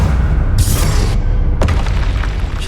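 Bombarda spell blast in the video game Hogwarts Legacy: a loud booming explosion with a bright burst at the start, then a second crackling impact about a second later, all over a rumbling low background.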